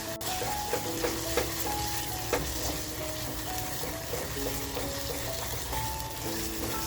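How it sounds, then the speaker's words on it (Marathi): Tomato frying in a pan for tandoori mutton keema, a steady close sizzle with soft crackles and occasional stirring scrapes and clinks running throughout. "बघा आता आपल्याला ना छान असं ह्याला फ्राय करून घ्यायचं आहे."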